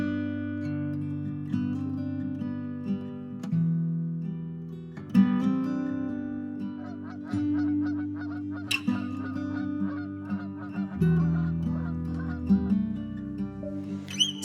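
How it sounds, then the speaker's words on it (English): Geese honk repeatedly over the open North Norfolk coast, a loud, clustered chorus of nasal calls overlapping in irregular bursts, with the birds heard fairly close and no talking. "Skies all open wide, geese go high and over."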